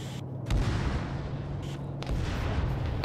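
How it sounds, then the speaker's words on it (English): Heavy gunfire aimed at a BMP armored vehicle in a military video game, with two loud booming bursts near the start and middle over a steady low rumble of battle. "Is Matt going to shoot that BMP?"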